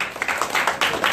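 A live audience at a business talk show claps in a dense, lively burst, many hands overlapping with sharper individual slaps standing out, fairly close and loud with no talk over it.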